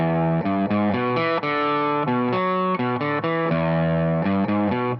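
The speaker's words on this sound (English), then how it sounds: "We've got some more distortion on the guitar tone" A distorted electric guitar plays a choppy, rhythmic riff, with a chorus-like effect. The chords are loud and steady with short stops between hits, and no one speaks.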